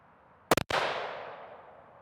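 A single sharp rifle shot from a CVA Cascade fitted with a radial muzzle brake, firing Hornady American Whitetail ammunition outdoors, cracks loudly once, then leaves a long fading echo.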